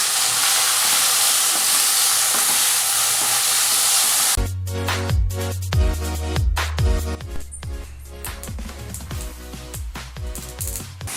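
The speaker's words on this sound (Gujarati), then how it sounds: "તેલ ગરમ થઈ જાય પછી તેમાં આપણે મેથી અને લીલા ધાણા જે સમારીને રાખ્યા છે તે એડ કરી અને 2 થી 3 મિનિટ સુધી ગરમ થવા દઈશું" Chopped fenugreek and coriander leaves dropped into hot oil in a home kitchen, beginning as a loud, steady hiss before turning into uneven crackles and clinks with stirring, close and loud.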